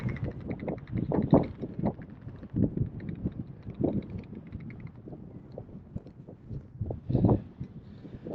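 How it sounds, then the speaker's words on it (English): Strong gusting wind buffeting the microphone on the Pennine Way between Edale and Crowden, a rumbling, roaring noise that swells and fades throughout. "Very windy, so you probably can't hear very much of this."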